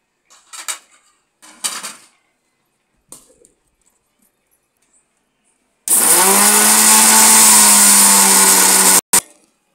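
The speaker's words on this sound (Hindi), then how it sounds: "ये जो मसाला है इसको देखिए हम सबसे पहले दरदरा पीस लेंगे, ज़्यादा बारीक नहीं करना है।" A mixer grinder coarsely grinding whole spices, fennel among them, for raw mango pickle: a few clatters as the jar is set, then a loud, steady high-pitched whir for about three seconds before cutting off, with a brief second pulse.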